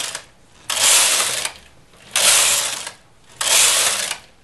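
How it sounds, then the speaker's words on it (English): Domestic knitting machine carriage pushed across the needle bed, knitting a row for an English rib cloche hat: three loud, harsh ratcheting sweeps, each under a second, with brief quiet gaps between them. "Then I'll push them back halfway so the machine will knit them, and I'll knit one row."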